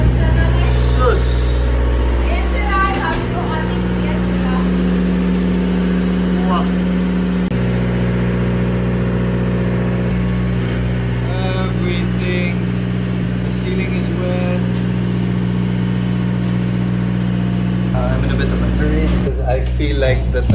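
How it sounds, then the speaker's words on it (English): Generator running steadily in a basement after a typhoon, a constant mid-pitched engine hum that shifts slightly in tone, with voices occasionally audible in the background. "We have our generator running."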